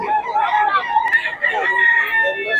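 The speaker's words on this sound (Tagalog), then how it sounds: "Maraming manok si Tatay Tony." Several roosters crow close by, overlapping drawn-out calls one after another among fowl kept for sale.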